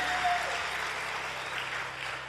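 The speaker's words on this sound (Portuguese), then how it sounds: "Vamos receber o irmão Antônio, aplauda o Senhor Jesus" A church congregation claps together in steady, dense applause, loud and continuous throughout the short stretch with no talking over it.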